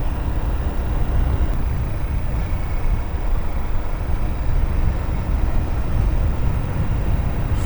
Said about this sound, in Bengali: আমি বাইক নিয়ে যাচ্ছি মালিবাগ থেকে শান্তিনগরের দিকে।